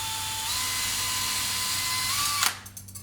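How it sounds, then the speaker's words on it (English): A drill press bores a hole in a metal-and-wire mixed-media piece, a steady high whine holding for more than two seconds before cutting off with a sharp clunk and a few small rattles. "a drill press is nice because you get a nice perfectly square perpendicular hole"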